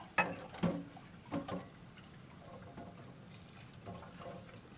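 A kitchen tap runs as hot cooked potatoes are rinsed to cool them, a soft continuous water flow with a few splashy bumps near the start, close and fairly quiet.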